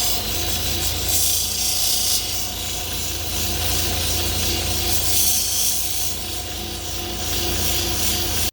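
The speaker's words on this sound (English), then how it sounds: "we're gonna go ahead and go over to the 3000 grit wheel right here, and we're gonna further shine this stone up" Fire agate stone being polished on a 3000 grit wheel, giving a steady, continuous rubbing hiss with a constant motor hum beneath, close and even throughout with no voices.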